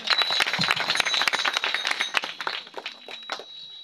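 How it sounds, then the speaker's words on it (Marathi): An audience at a kirtan performance applauds, a dense burst of hand clapping that holds strong for a couple of seconds and then thins out and fades toward the end. "ब्रह्मानंदासाठी जोरदार सर टाळ्या वाजवा."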